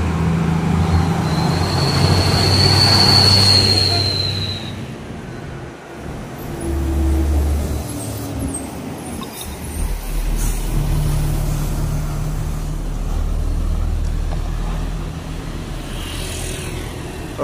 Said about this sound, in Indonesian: masuk bus Sempatistar, masuk di jam 7 lewat 44 menit